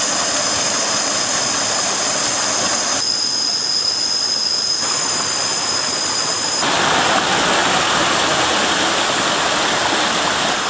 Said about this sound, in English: there is this multi-level waterfall